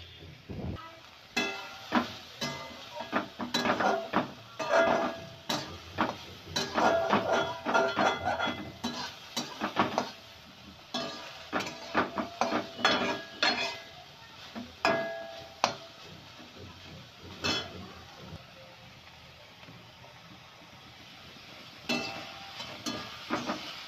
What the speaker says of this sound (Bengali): এবার এটাকে লবণ হলুদ দিয়ে ভালো করে ভেজে নিতে হবে।